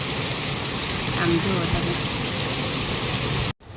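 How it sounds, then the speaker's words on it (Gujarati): Heavy monsoon rain pours steadily outside a home kitchen, a dense continuous hiss close by, with a brief spoken remark over it before the sound cuts off abruptly near the end. "અત્યારનો વરસાદ જુઓ કેવો જોરદાર વરસાદ આવે છે."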